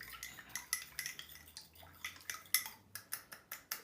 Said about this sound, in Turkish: Bu tuzun tabi çözülmesi biraz sürüyor. Onun için e, bunu güzelce böyle eritiyorum, karıştırıyorum.